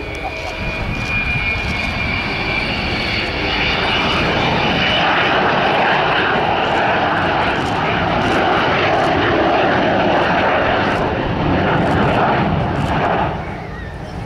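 Avro Vulcan bomber at RIAT 2012, its jet engines giving a loud, sustained broadband roar that swells and holds before easing slightly, with a commentator's voice over the public address.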